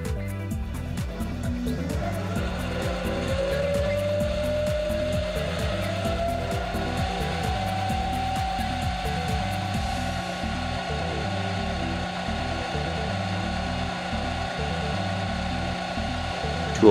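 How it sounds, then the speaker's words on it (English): A DC motor on a power supply spins on a two-quadrant constant torque brake test bench. It gives a steady mechanical whir with fine ticking texture, and its tone rises slowly as it speeds up. "I also start the DC motor."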